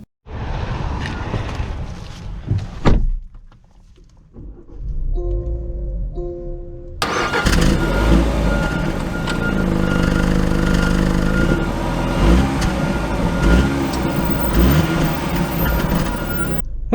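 A 2022 Land Rover Range Rover Evoque idles with faint clicks and chimes, then its engine starts with a sudden loud surge and settles into a steady, close drone as the vehicle pulls away.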